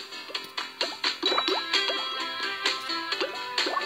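Bubbles popping in the Talking Tom Bubble Shooter tablet game: a rapid series of bright, crisp plops and drips, several closely spaced with short tonal chimes, fairly loud and without talk.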